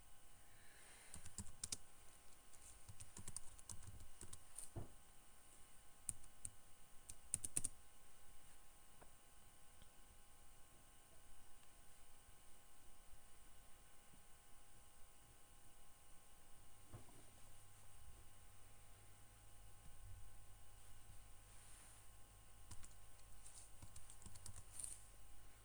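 Quiet, scattered typing on a computer keyboard, with sporadic soft keystrokes over a faint steady hum for the whole stretch and no voices.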